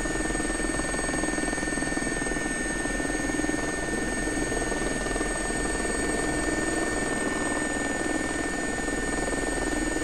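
A JRX SA342 Gazelle helicopter holding a high hover in a flight simulator game over a BC logging camp, with a steady, loud rotor and turbine drone and a constant high whine, unbroken and without voices.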